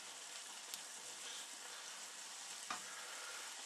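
Food fries quietly in a pan, a faint even crackle and hiss with two brief sharp clicks from utensils, and no one talks.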